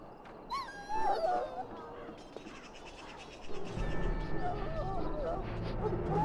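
A dog whimpers and yips in the video game Dragon Age: Origins, soft whining cries early on, then game music and ambience swell underneath, moderately quiet.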